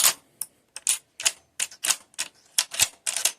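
Mosin rifle bolt working a bare .308 brass case, a quick run of a dozen or so sharp metallic clicks and clacks, close and distinct against silence.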